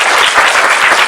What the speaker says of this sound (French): que tout le monde applaudisse des deux nageoires